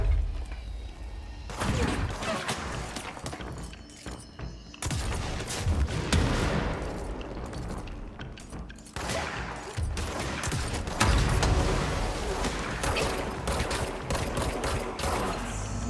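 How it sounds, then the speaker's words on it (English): Gunfire from shooting enemies in the video game Control, loud repeated bursts and rapid volleys with heavy impacts, continuous throughout with brief lulls between salvos. "It's so hard to shoot people in this game."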